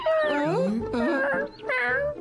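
A cat meows several times up close, drawn-out wavering cries that rise and fall.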